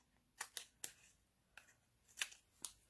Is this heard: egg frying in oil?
no